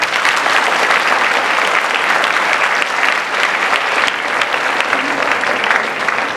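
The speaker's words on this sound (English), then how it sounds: "Let's give them a round of applause." A school audience gives loud, sustained applause to welcome 60 visiting students and 5 teachers from Seoul Global High School, with dense, even clapping from a large crowd lasting throughout.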